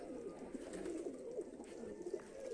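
Giribaz pigeons coo continuously in a soft, throaty, overlapping chorus, a low rolling burble repeating close by without any talking.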